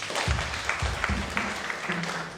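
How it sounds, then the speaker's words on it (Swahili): A church congregation claps in applause, a dense burst of hand claps that pulses in uneven waves, close and fairly loud throughout. "Tupigieni hiyo mama makofi"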